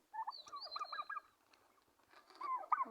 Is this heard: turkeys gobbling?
yes